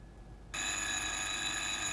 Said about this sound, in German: Im gleichen Augenblick hörte ich aus dem Wohnzimmer das Telefon.